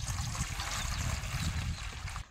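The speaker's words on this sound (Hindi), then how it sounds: "ये देखिए जैसे पानी डालूंगा।" Water is poured into a drinking dish for pigeons in a bird coop, producing a faint, continuous trickle and splash for about two seconds before stopping abruptly.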